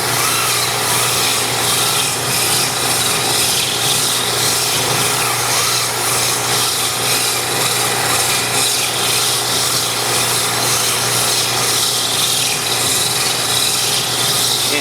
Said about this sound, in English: keep the sandpaper moving, keeps it cooler